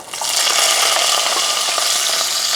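Shallots, crushed ginger and green chillies hitting hot oil in a pan, a bright, dense sizzle that swells quickly and holds steady and close for a couple of seconds, with no voices.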